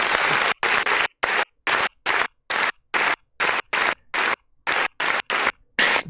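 Bursts of crowd clapping repeatedly cut off into silence, a choppy on-off pattern of loud applause chunks in quick succession.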